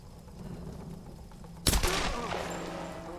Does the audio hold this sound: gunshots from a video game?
yes